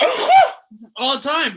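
A single sharp sneeze bursts out nearby, followed by a short spoken phrase.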